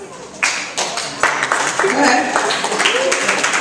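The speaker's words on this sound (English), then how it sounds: "Alright, clap if your cell phone's off." Scattered clapping from an audience at a high school talent showcase, starting after a brief spoken prompt and building into a steady mix of claps, with a voice and cheering heard over it.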